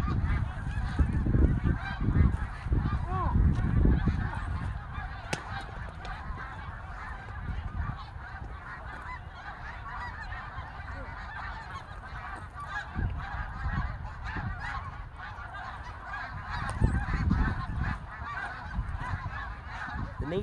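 Geese honk repeatedly in loose bursts, loudest near the start and again later, over steady outdoor background noise with a voice faintly present at times.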